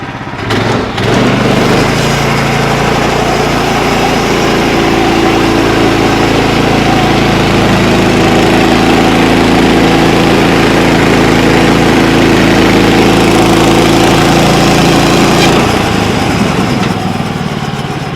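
A sawmill engine runs steadily and loudly at close range while spalted red oak is cut into 2-inch pieces, a constant mechanical drone that holds for most of the stretch before dropping off near the end.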